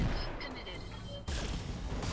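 Weapon fire in the video game Roguepoint, aimed at an enemy's leg, heard as dense, loud sustained blasts that surge abruptly louder midway.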